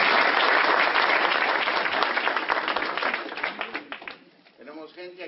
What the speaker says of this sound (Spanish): Fuerte aplauso a los de Arizona.